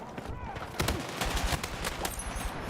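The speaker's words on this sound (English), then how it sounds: "Okay, I'm liking the AK a lot more than the SMGs." AK rifle gunfire in the Battlefield video game beta, rapid bursts of punchy shots layered over a dense battle din, with someone talking over it.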